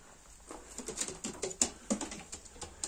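Iraqi şarabi pigeons at night, soft cooing mixed with light scratching and fluttering movement, a string of faint irregular taps and rustles close by.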